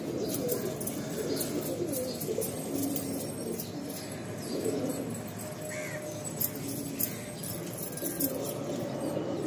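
Rooftop pigeons, including tiger-breed birds kept for flying, cooing and calling in a steady outdoor chorus, with occasional wing flaps and crow-like caws mixed into the continuous background.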